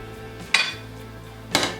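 Food being moved onto a plate with utensils for a truffle cheese burger: two distinct clattering scrapes of metal against the dish, about a second apart, close and fairly loud over a low kitchen hum.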